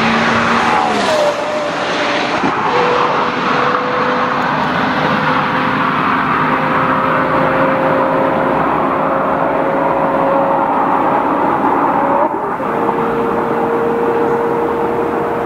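A loud, high-revving 5.7-litre V10 engine of a Porsche Carrera GT screams at length past 8,000 rpm, its pitch sliding and holding as it shifts, with a brief dip near the end.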